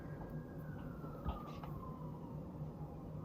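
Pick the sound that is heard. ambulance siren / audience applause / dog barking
ambulance siren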